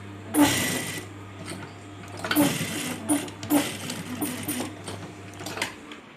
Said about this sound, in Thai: เย็บตามรอยตะเข็บที่เก่าของเขานะคะ